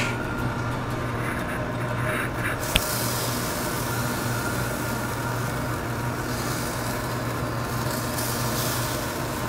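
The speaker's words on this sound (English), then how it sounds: "Nice sizzle there" Fish fillets laid onto a hot grill for healthy fish tacos give off a steady, even sizzling hiss that holds unbroken throughout, over a low constant hum.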